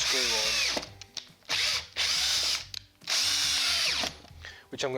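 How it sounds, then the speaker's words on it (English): A power drill drives 50mm screws into a piece of ash wood in three loud whirring bursts. Each burst rises and falls in pitch, with short pauses between them. "screw on with a couple of 50mm screws"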